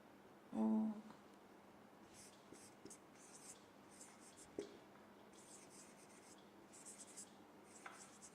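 Pen writing out example sentences for a spoken-English error-spotting lesson, with faint scratchy strokes in short bursts and one louder knock near the start, in a quiet room without talk.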